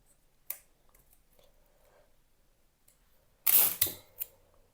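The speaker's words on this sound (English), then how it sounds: "Big area there, so cut a big piece." Scissors slice through cardstock in two or three quick snips that cluster near the end, each one close and crisp, after a faint early click with quiet paper handling between.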